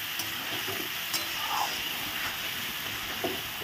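Sesame and green chili paste being stirred and fried in a pan, a steady soft sizzle with scraping stir strokes, faint and continuous throughout.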